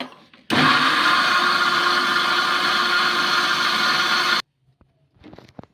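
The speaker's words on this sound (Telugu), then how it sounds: "నీళ్ళు అయితే వేసినాను వేసుకొని మరి మిక్సీ పట్టేసుకుందాము" A mixer grinder whirs loudly and steadily for several seconds grinding ivy gourd dosa batter, then cuts off, followed by a few faint clatters.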